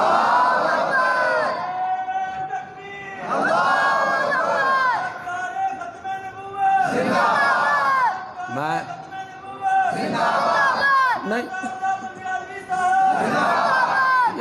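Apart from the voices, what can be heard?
crowd chanting slogans at a religious talk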